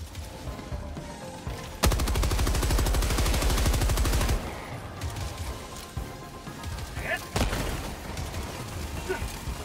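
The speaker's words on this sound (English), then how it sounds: "What's shooting down there?" Rapid automatic gunfire in the Helldivers 2 shooter, a dense burst of shots lasting a couple of seconds followed by scattered single cracks and distant battle noise, with a voice talking over parts of it.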